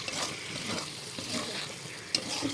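Small fish, lote (Bombay duck), stirred by hand in a frying pan, giving a soft continuous sizzle with faint scraping and one brief sharp clink near the end.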